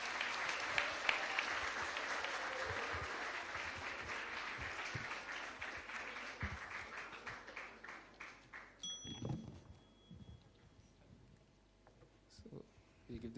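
An audience at an inter-school debate competition applauds the debate teams, a dense burst of clapping that thins out and fades into scattered claps, followed by faint murmurs and a brief ding.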